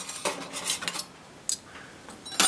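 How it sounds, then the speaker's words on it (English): Dishes and cutlery clatter and clink as they are loaded into a home dishwasher, several sharp knocks spread across a brief stretch with no talk. "throw it all in the dishwasher."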